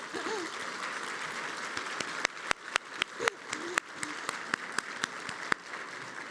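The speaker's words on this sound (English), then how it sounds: "If we could all have an applause for them." An audience at an equity awards ceremony claps steadily across a hall, with a few louder, sharper claps standing out near the front of the sustained applause.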